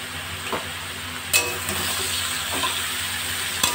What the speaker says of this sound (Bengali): এঁচোড়গুলো ভালো করে ভাজা হবে।